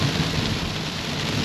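Steady rain pours down during a trip toward Sungai Perak in late afternoon, a dense continuous hiss with a low rumble that fits distant thunder, no voices present.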